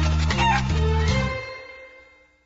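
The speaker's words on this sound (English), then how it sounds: "Look, more chicken." A cartoon chicken in a Paw Patrol video game gives a few loud, close clucks in quick succession before the sound fades away into silence.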